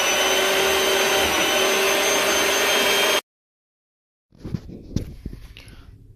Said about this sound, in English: I just blended about that half of the white shea butter